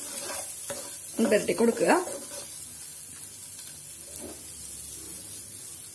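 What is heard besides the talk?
eggs frying in masala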